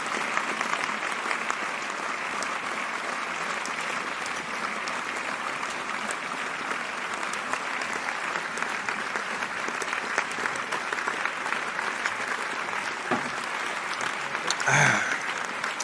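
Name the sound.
applause sound effect track played on podcast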